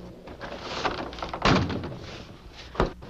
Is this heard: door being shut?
yes